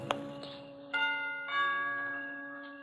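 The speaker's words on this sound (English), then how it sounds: "I lean on the bell" A doorbell rings as a radio drama sound effect at the front door of a villa, with a sharp initial strike followed by a sustained, bell-like tone that rings out and slowly fades, heard alone without voices.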